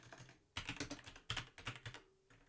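Fast bursts of typing on a computer keyboard, close up, with a short pause after the first keystroke, then two dense runs of clattering keys, no talking.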